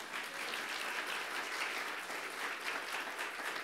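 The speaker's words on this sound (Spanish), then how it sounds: "¿Por qué no le da un aplauso a Jesucristo?" A church congregation applauds in a steady, even wash of clapping that continues throughout, moderately distant and uninterrupted by speech.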